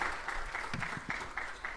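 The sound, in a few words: applause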